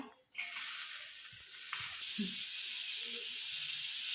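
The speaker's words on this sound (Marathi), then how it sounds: "तवा तापलेला आहे आता आपण यावरती कांदा टाकूया" Onion dropped onto a hot griddle bursts into a loud, steady hiss that starts abruptly and holds, with faint clinks of utensils underneath.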